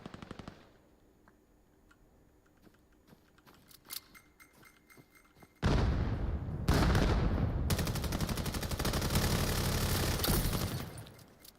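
A flashbang and grenade going off in the VAIL virtual reality shooter, quiet scattered game noise then a sudden loud blast followed by sustained heavy gunfire and explosive clatter.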